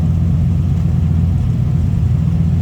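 A 1956 Mercury Montclair Phaeton four-door hardtop idles with a deep, steady rumble up close, holding an even low throb throughout with no voices.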